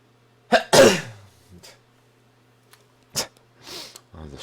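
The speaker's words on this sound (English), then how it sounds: "I was trying to mute myself before I sneezed, but I couldn't make it in time." A single loud, close sneeze bursts out, followed by a few quieter sniffs and breathy noises in an otherwise quiet room.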